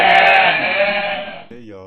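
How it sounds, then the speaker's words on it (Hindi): Cartoon goats belonging to a shepherd bleat loudly and continuously in a forest, a dense, harsh chorus that fills most of the moment before cutting to a brief, quieter voiced sound at the end. "चरवाहे की बकरियां शोर मचाती रहीं।"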